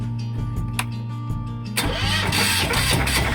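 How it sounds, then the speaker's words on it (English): A boat's motor cranks and catches after a new alternator installation. A starter whine and electrical hum come first, then the engine fires into a rough, loud running rumble close by, with no voices. "Starting the motor."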